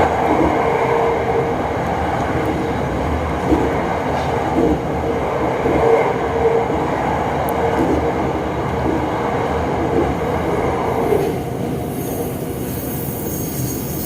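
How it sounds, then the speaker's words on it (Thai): Inside a Bangkok Red Line electric train curving into Krung Thep Aphiwat station, a steady loud rumble of wheels and carriage fills the space with faint squealing, easing slightly near the end. "รถก็กำลังโค้งเข้าสู่สถานีกลางกรุงเทพอภิวัต"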